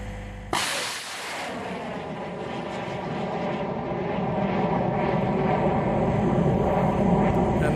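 The Phoenix 1B Mark IIR hybrid rocket lifts off on a record altitude flight, starting with a sharp ignition crack followed by a loud, sustained roaring rumble that builds steadily.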